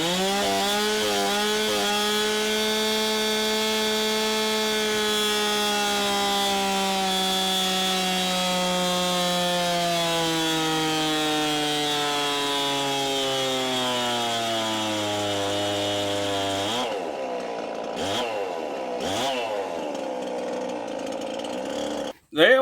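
A Holzfforma Farmertec G366 chainsaw, a Stihl MS361 clone with a modified muffler, roars at high speed under load on a dyno, its pitch sagging slowly before it cuts out into a few sharp clanks and rattles.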